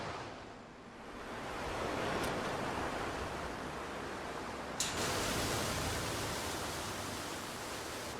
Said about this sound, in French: On arrive là près de la grande cascade